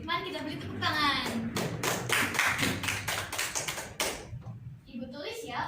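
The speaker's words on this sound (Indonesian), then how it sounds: "Mari kita beri tepuk tangan." Children in a primary school classroom clap in quick rhythmic strikes to congratulate a group during a lesson, close and busy, mixed with young voices and a teacher speaking.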